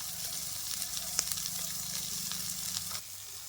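Ground cumin and Kashmiri red chilli powder sizzle in hot oil in a pan for a bitter gourd curry, a steady close frying hiss with light crackles that drops away sharply near the end.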